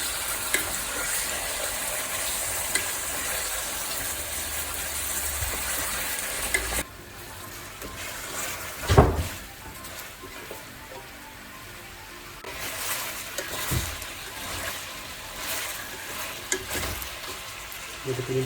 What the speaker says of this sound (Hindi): सबसे पहले ऑयल डालेंगे, फिर उसके बाद चिकन इसके अंदर डाल के थोड़ा सा भून लेंगे 3 से 5 मिनट